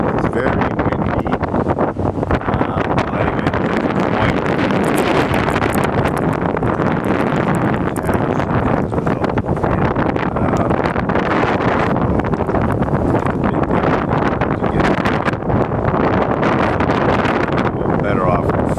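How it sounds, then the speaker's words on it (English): Strong wind buffets the microphone in a steady, loud, broadband roar outdoors near Notre-Dame de Bonsecours Chapel at sunset, running unbroken throughout with faint background sounds beneath. "It's very windy."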